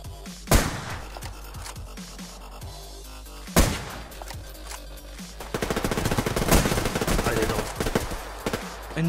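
Weapon fire in the multiplayer shooter Survarium: loud single shots and a sustained automatic burst crackling over game ambience, with faint voices in the mix.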